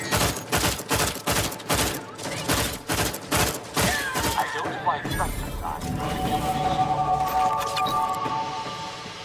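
Rapid bursts of gunfire ring out in a video game, a rhythmic series of sharp loud shots for several seconds, then giving way to clattering mechanical effects and mixed game noise.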